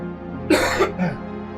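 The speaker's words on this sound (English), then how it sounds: "I'm just going to have to cough a little." A single harsh cough, close and brief, followed by a short throat-clearing rasp against a quiet background hum.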